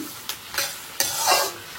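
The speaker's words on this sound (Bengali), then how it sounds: "এখানে এখন পেঁয়াজ আর ক্যাপসিকাম ভাজা চলছে" Onions and capsicum frying in a pan, a soft sizzle broken by three scraping stirs of a spatula, close and without talk.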